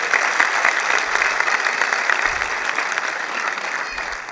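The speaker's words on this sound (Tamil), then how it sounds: "அந்த ரசிகர்களுக்காக ஒரு கைத்தட்டு கொடுங்க" Sustained applause from a seated audience, including fans sitting on the stairs, at a Tamil humour talk event, steady and fairly loud with no speech over it.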